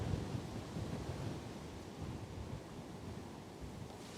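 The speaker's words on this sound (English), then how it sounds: "it's really blustery right now" Strong, blustery wind buffets the microphone outdoors, a faint, continuous rumbling rush that swells and eases slightly, with no voices.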